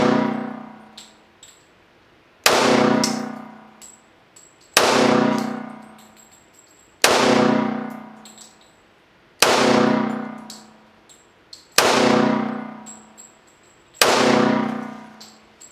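Ed Brown Special Forces pistol fired at a steel target, seven sharp ringing clangs spaced about two seconds apart, each with a fading metallic ring, no talking.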